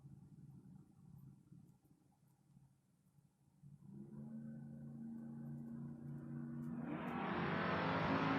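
A Chevelle drag car at a drag strip rumbles quietly at idle, then surges into a rising, harsh roar that grows louder and brighter as it launches, with no speech heard.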